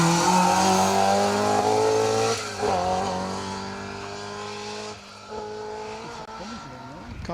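A rally car on an asphalt stage at the Argyll Rally roars past close by, engine note rising then falling with gear changes, as commentary voices talk over it throughout.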